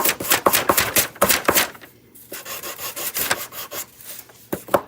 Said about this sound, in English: It always takes so much more effort to sand with the block versus sanding with the machine